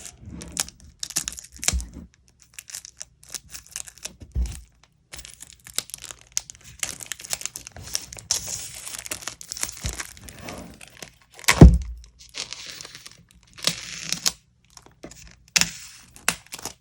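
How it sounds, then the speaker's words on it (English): Crinkly snipping with small scissors and rustling of plastic packaging around a tarot deck, with a sharper crack near the middle, close up and in irregular bursts with quiet gaps. "So I got my trusted little scissors right here, and we're just going to cut."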